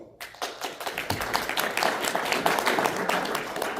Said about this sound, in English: So big round of applause to all of you guys as well